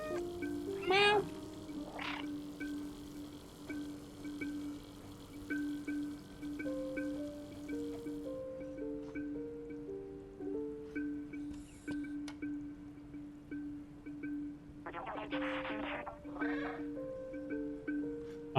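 Cat meowing in the video game Stray, a sharp meow near the start and more short cries later, over a soft steady game tone with sparse electronic sounds.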